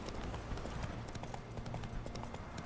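Roach, a horse in The Witcher 3, trots with steady clip-clop hoofbeats close by under a dense game soundscape, continuous and fairly loud throughout.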